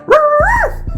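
A human voice imitates a small Chihuahua barking, giving one close, loud, whiny yelping bark that rises and falls in pitch, heard alone within about a second.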